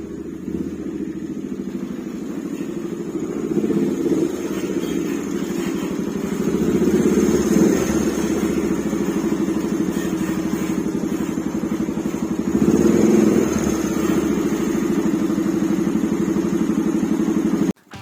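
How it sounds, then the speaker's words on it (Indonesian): A Honda Thunder 250 motorcycle with a flooding, leaking carburetor runs with a continuous, steady engine drone heard up close, holding an even level before cutting off abruptly at the end. "Setelah kita hidupin mesinnya, setelah kerannya kita naikin, hidupin mesinnya, dan nanti kita coba ketika jalan ya guys ya."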